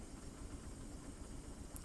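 Drilling truck engine in Stormworks running at low RPS, a steady low rumbling drone with faint mechanical vibration, continuous and even throughout with no voices.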